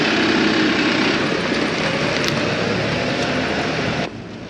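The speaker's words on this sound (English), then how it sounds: "we've got the New Holland T5 120 out ready to work this morning" A New Holland T5 120 tractor engine runs steadily nearby with a broad, constant rumble and no talk, then drops noticeably quieter just before the end.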